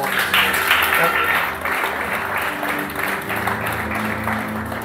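A church congregation breaks into applause and cheering, a dense wash of clapping and raised voices over a steady low background, loudest at the start and easing slightly after.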